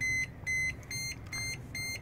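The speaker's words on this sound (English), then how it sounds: "it's easier to point with an audible buzzer" A Hughes 9202 BGAN satellite terminal's pointing buzzer beeps in short, evenly spaced high-pitched pulses, about five in two seconds, over a low background hum.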